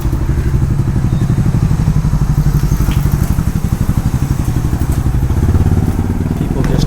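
Motorcycles rumble through a town street in El Nido, Philippines, with a loud close engine chugging and rattling, a voice talking over it.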